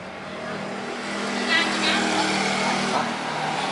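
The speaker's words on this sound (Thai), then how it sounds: "เดี๋ยวเราจะมาสั่ง สตาร์ทที่รีโมทนะครับ" A Honda Scoopy-i motorcycle starts by alarm remote and settles into a steady engine idle. It hums throughout at moderate level, rising slightly after the first second, with a voice speaking over it.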